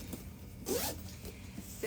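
Zipper on a sewn duffle bag with extra-large Tula Pink pulls, drawn in a few short quiet zips, close up with no talking.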